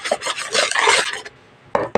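Dry baking ingredients, among them baking powder, white sugar and salt, are stirred together in a bowl for binangkal, giving a steady dry scraping rasp for about a second before a pause and two short final strokes.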